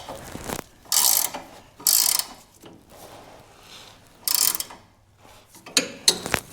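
Lever on a vintage Simplicity garden tractor's snow blower attachment being engaged and disengaged, giving several loud ratcheting, clanking mechanical bursts separated by quieter gaps, close up with no talk.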